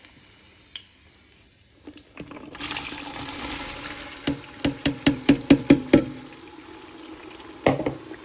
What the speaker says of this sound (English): I'm now going to add the onion.